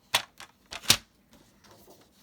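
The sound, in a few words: Stampin' Up paper trimmer cutting white card paper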